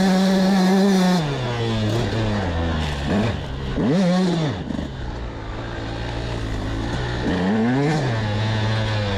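A motorcycle engine accelerating out of corners, its pitch rising and falling through repeated roll-on surges, loud and close with wind rush and no speech over it.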